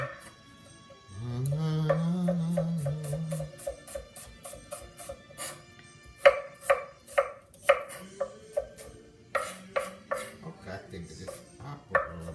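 Knife chopping an onion on a cutting board while cooking escarole with beans in red sauce: a run of crisp, rapid chops, close and fairly loud, following a brief stretch of low background voice.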